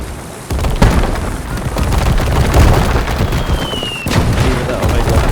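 Field gun firing in the Call to Arms: Gate of Hell war game, a dense barrage of booming blasts over a continuous rumble of battle noise, with one sharp, loud report near the end.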